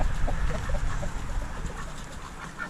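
Chickens cluck softly at close range, scattered among farm birds as ducks push them away from scattered seed, with a low background rumble.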